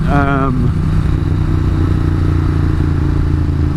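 Ducati 900SS motorcycle being ridden, its engine droning steadily and loud throughout, with a brief rising whine near the start and constant wind and road noise.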